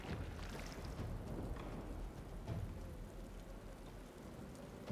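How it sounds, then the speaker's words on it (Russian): A conjured rain spell in the video game Divinity: Original Sin 2 falls as a soft, continuous patter of drops, quiet and even throughout with a few faint splashy bursts and no voices. "вызвать дождь. Дождь, дождь."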